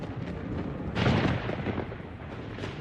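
A thunderstorm rumbles in a broad, continuous roar, swelling into a louder crash of thunder about a third of the way in before settling back to a steady stormy rumble, with no talk.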